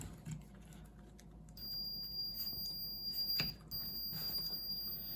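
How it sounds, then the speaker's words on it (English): A firewood moisture meter emits a thin, steady high-pitched beep that holds for several seconds, faint over a low background hum, with a brief click partway through. "You can hear the beeping noise."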